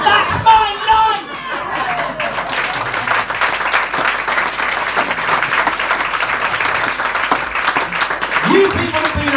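A comedy night audience at a charity show breaks into loud, sustained applause and cheering that fills the room for several seconds, with a few voices mixed in.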